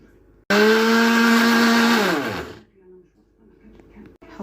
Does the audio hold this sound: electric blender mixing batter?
yes